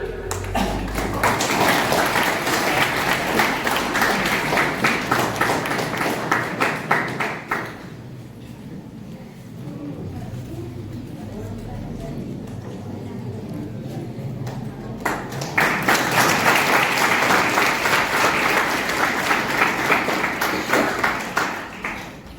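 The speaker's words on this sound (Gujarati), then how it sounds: "આપણે સૌ તેમને તાળીઓથી વધાવીશું." A college audience at a mother-language festival applauds to welcome a trustee, with sustained dense clapping that dips into a quieter stretch midway and then swells loudly again.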